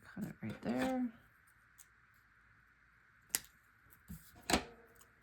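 Scissors snip through paper for an Easter-themed scrapbook page layout, a few short crisp cuts at close range, separated by quiet pauses, with a brief voice sound near the start.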